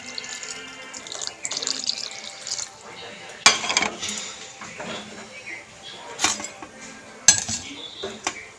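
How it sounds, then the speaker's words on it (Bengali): Water is poured into a pan of Bengali rui fish curry with ridge gourd and potato, splashing among sharp clanks of metal utensils and pot knocks at close range. "এবার আমি পরিমাণ মতন জল দিয়ে দেবো"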